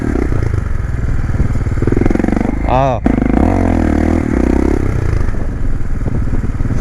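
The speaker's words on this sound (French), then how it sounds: "Mes coups de frein sont pas encore assez linéaires. Je sais pas si ça va se voir à la cam mais ça fait genre tac tac tac tac." A motorcycle rides a coaster track with uneven, jerky braking, its loud close engine buzzing and pulsing with a rapid rattling chatter and a brief pitch sweep midway; a single short voiced exclamation cuts in.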